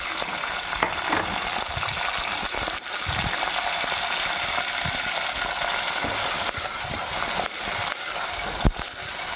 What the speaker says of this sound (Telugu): గుడ్లన్నీ కూడా గోల్డ్ కలర్ వచ్చే వరకు ఇలా ఫ్రై చేసుకుని ఇవి తీసి పక్కన ప్లేట్లో పెట్టుకోవాలి.